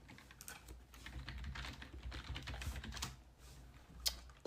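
Quiet, irregular tapping on a computer keyboard while coding, soft keystrokes spread through a low background rumble, with one slightly sharper click near the end.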